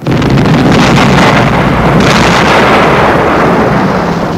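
The guns of a warship open fire in heavy, booming blasts that merge into a loud, continuous roar, with a sharper burst partway through and a rumbling wash of noise beneath.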